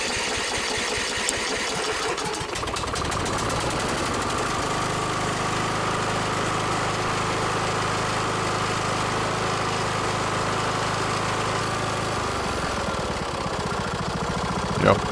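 A Kohler small engine on a lawn mower idles steadily after a valve cover gasket repair, a loud continuous hum with a low droning tone that steadies after a few seconds and runs on without talk.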